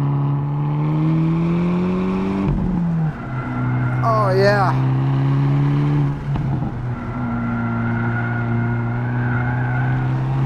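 A 2022 Hyundai Elantra N on a race track revs hard through a gear, its rising engine note cutting off at the shift, with tires squealing through a corner before the revs climb again; a voice speaks briefly in the cabin.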